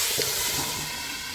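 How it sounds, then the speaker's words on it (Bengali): A little water hits a hot pan of koi fish curry with beto greens stalks, giving a loud, steady steam hiss that barely fades over a second and a half. "অল্প জল দিয়ে দিচ্ছি। সেদ্ধটা হয়ে যাবে।"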